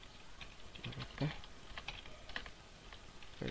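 Soft, quick keystrokes on a computer keyboard tap in irregular bursts while someone runs commands at a desk, faint and close, with a voice speaking intermittently over the typing.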